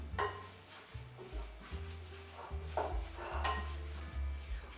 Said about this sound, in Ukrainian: До капусти викладаю м'ясний фарш. і все добре перемішуємо.